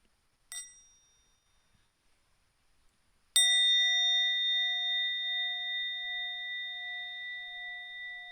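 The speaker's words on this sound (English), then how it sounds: "maybe for sound of the bell" A meditation bell rings twice at a Zen practice session, first a short soft strike, then a clear full strike whose pure tone hangs and slowly fades across several seconds in a quiet room.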